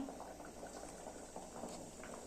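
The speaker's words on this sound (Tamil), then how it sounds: "தண்ணி நல்லாவே கொதிச்சிருச்சு" Water bubbling at a rolling boil in a cooking pot, a continuous soft gurgle and pop close by, with no voices.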